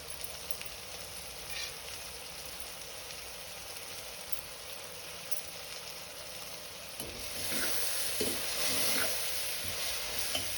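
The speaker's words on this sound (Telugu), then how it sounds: "లో ఫ్లేమ్లో ఒక 10 నిమిషాలు ఇవన్నీ కొద్దిగా నూనెలో మగ్గే వరకు ఉంచుకుందామండి" Fenugreek leaves cooking in a little oil over a low flame for a tamarind fish curry, with a steady close sizzle and soft stirring scrapes that grow slightly louder toward the end, no talk.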